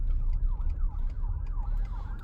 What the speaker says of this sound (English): Here's an ambulance.